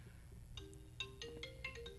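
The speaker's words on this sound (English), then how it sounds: "Wow, somebody forgot to cut their phone down" A mobile phone ringtone chimes out in a repeating melodic pattern of bright electronic tones over a low room rumble, fairly faint as if from somewhere in the audience.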